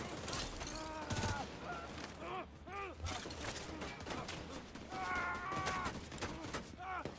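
Bursts of gunfire from The Division 2 rattle through dense in-game action, with rapid shots mixed into loud effects and shifting tonal sounds throughout.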